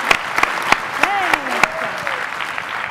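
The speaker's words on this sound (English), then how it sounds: "Big round of applause again for our panelists, you guys." Audience applause for a panel discussion at a live conference event, a steady wash of clapping with sharp individual claps standing out and a voice speaking briefly over it.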